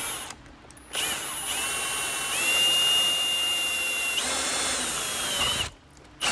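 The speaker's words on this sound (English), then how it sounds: "just use a really long drill bit, and we're gonna just go right through there" A power drill with a long drill bit whines steadily for several seconds, its pitch rising partway through as it bores, then stops abruptly; loud and close.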